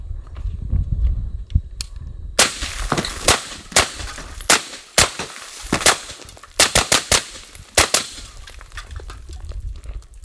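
A suppressed CZ Bren 2 rifle with a 2-10 power optic fires at close range, with loud, sharp reports in uneven bursts and single shots over several seconds, some spaced apart and some in quick clusters.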